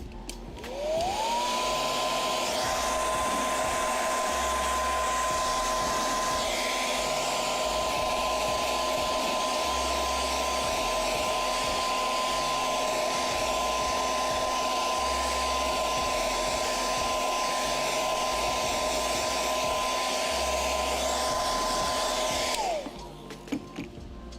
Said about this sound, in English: Little hairdryer action.